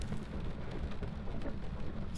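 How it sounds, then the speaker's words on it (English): Rain pattering on windows in the horror video game Phasmophobia, a steady soft hiss with low rumbling beneath, continuous and moderately loud, ending in a brief louder thump. "hear the rain on the windows."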